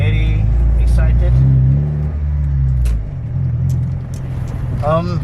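A Honda Civic EK engine on its final drive with the original motor drones loudly in the cabin, a low steady rumble that eases and swells slightly, while someone talks over it.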